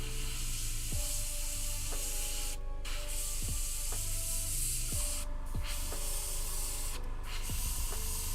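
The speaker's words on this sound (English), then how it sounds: "You probably could do it with a dry brush or brushing normally, but I've got one of these," An airbrush sprays paint onto tabletop wargaming miniatures. A continuous, even hiss runs the whole time, with a few short breaks and a faint tonal background underneath.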